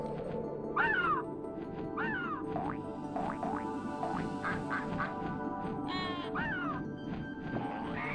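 Cartoonish duck quacks from the Frogger video game repeat in short bursts, several distinct calls sounding clearly over busy in-game music and effects.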